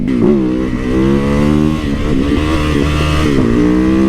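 A small, torquey motorcycle engine revving hard as the throttle is ripped, loud and close, with the pitch rising and falling over several seconds.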